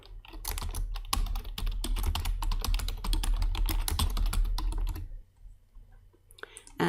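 Rapid clicking keystrokes on a computer keyboard as a file name is typed, a steady burst of taps for about five seconds that then stops, followed by quiet room tone.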